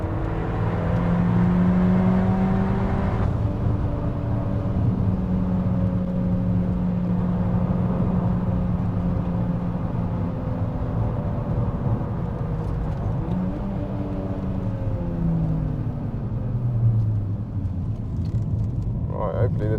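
A Peugeot 308 GTi is driven flat out around Anglesey Circuit, its engine droning loudly from inside the cabin as the pitch climbs and drops through the gears, with a person talking over it.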